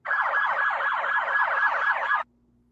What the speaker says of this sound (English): there were sirens going off